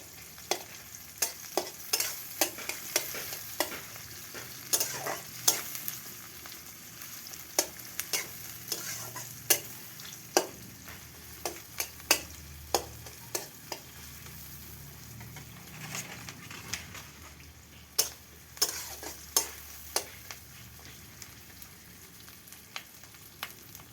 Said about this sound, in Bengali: পেঁয়াজটা একটু রেডি হয়ে যাক। হালকা লাল হয়ে আসলেই